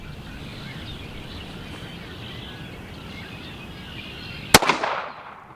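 A derringer pistol loaded with a light lead reload fires a single sharp, loud shot that rings out briefly against a steady outdoor background hiss.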